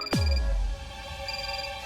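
A phone on a Lucknow women's police station set in a TV comedy gives a single short ringing burst, a bright electronic ring with a sweeping tone that fades into a sustained ringing hum, loud and alone.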